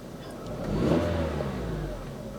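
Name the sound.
car engine revving, then back to idle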